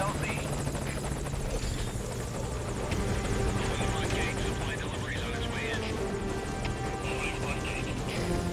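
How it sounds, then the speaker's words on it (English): A helicopter in the video game Metal Gear Solid V: Ground Zeroes hovers close with a steady rotor thrum and engine buzz that holds loud and constant under game noise throughout. "How the hell do they not have scanners to show that the this helicopter is pulling up, you know?"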